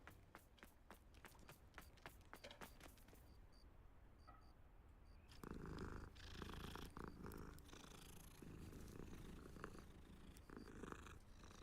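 A cat in the video game Hogwarts Legacy purrs while being petted, a soft continuous rumble under light footstep-like game sounds, growing somewhat louder and fuller midway through.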